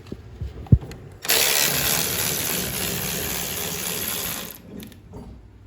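A ratchet wrench loosens a strut bolt on a 2015-2020 GM vehicle with Magnaride strut assemblies, a loud close burst of rapid clicking ratchet pawl sound lasting a few seconds after some brief knocks, then fading.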